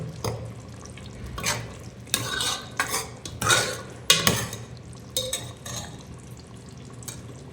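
A pot of mutton dum biryani being uncovered and handled, with a series of loud metallic clanks and scrapes of the lid and utensils against the vessel, separated by quieter pauses and a low steady background hum.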